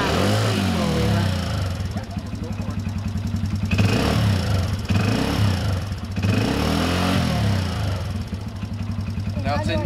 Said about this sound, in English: So, this is Nicholas's new four-wheeler